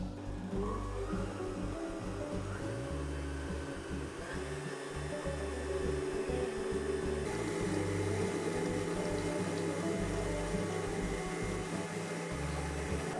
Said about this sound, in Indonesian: Mixer dengan kecepatan rendah di awal.